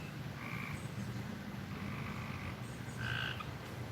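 Several frogs croaking in a garden, short repeated calls that rise over a steady background hum, with no talk.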